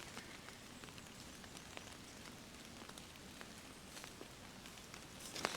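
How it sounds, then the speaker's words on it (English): Steady rain pattering on a tarp shelter at a wet outdoor camp, a dense continuous patter with scattered louder drips and taps, fairly close and even throughout, with no voices. "it is probably one of the best sounds in the world. Rain on a tarp."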